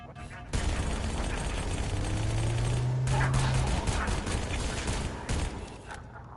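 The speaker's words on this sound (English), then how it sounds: "And use this SMG. I love the sound of the SMG." Rapid SMG fire in Halo Campaign Evolved, loud bursts of automatic gunfire with mechanical clatter that run almost continuously, with brief breaks between bursts.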